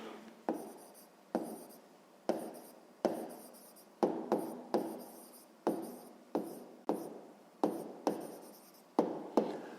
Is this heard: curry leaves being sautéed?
no